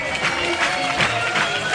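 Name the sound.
audience applause at a dive show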